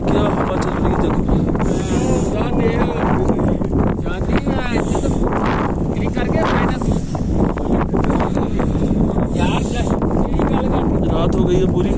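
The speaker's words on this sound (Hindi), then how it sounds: "क्या हवा चल रही है देखो।" Strong gusting wind buffets the microphone at the Tanglang La mountain pass on the road to Leh, a loud, constant roar throughout, with people talking over it.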